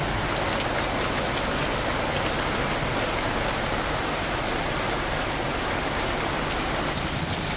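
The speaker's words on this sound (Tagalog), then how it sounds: "Oh my God, ang lakas ng ulan!" Heavy rain pours steadily and densely in the Philippines, a loud continuous hiss with pattering drops throughout, no voices.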